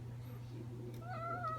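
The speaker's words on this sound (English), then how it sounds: "Yeah, meow." A house cat gives a single short meow near the end over a low steady hum, faint and fairly close, with no talking.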